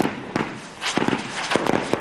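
Firecrackers exploding during a street celebration in Mali, a series of sharp cracks and pops at irregular intervals, several in quick clusters, over a noisy outdoor background.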